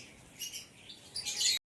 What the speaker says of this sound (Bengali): এই পাখিগুলো কিন্তু এখনো অবধি কখনো কলোনিতে ব্রিড করেনি